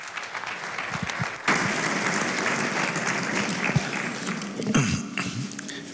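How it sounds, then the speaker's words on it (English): Audience applause at a press conference for an Arabian racehorse world conference in Madrid, a steady crowd clapping that swells sharply after a quieter start and continues full and even, with a few sharper claps and thumps near the end. "Give him a big round of applause, Dr. Abdullah Al-Raisi, sir."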